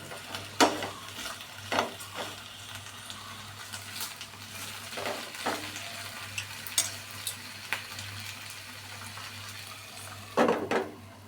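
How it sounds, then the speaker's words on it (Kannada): Raw plantain pieces frying in a pan with cumin and onion, a soft continuous sizzle under scattered sharp clinks and scrapes of a utensil stirring against the pan, with a steady low hum in the background. "ಸ್ವಲ್ಪ ಜೀರಿಗೆ, ಸ್ವಲ್ಪ ಈರುಳ್ಳಿ, ಬಾಳೆಕಾಯಿ ಹಾಕ್ತಾಯಿದ್ದೀನಿ. ಒಂದು 10 ನಿಮಿಷ ಬೇಯಕ್ಕೆ ಬಿಡಬೇಕು."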